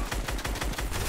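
Heavy sniper rifle fire in an online shooter video game: a rapid run of sharp, loud gunshot cracks packed into about a second, with no talking.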